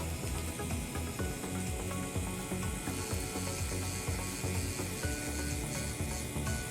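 A handheld machine hums steadily throughout a cosmetic procedure, its dense mechanical whirring loud and unbroken with no talk over it.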